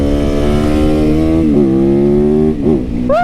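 Motorcycle engine running loud and close with a steady throbbing, harmonic-rich grunt, shifting pitch in a couple of brief blips and revs near the end.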